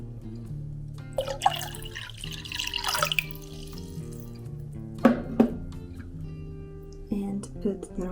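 Tap water runs and splashes into a sink as rice soaks in a bowl, with intermittent pouring bursts and drips over a low steady hum and talking throughout.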